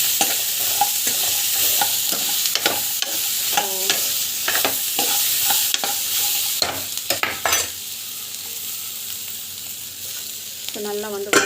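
Chutney ingredients being sautéed in a pan, a bright continuous sizzle broken by repeated scraping and stirring strokes of a spoon, close and loud throughout.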